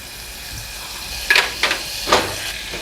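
Butter melting in a hot pot for a sweet and spicy popcorn sauce, a soft steady sizzle with a few short hissing bursts close by.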